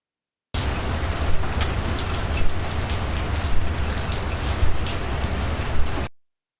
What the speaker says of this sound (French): Une pluie fine, mais drue, tombait régulièrement à présent.